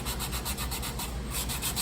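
Steady, continuous sanding of dried fiberglass covers for a fuel sensor on a Zenith CH 750 CruZer aircraft build, a close rasping scrub in quick regular back-and-forth strokes.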